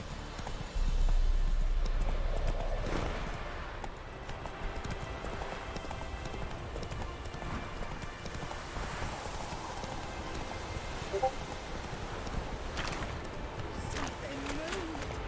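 Horse hooves clip-clopping at a trot in the Witcher 3 video game, a steady muffled rhythm under ambient game sound, with a rider's voice briefly calling out at the start.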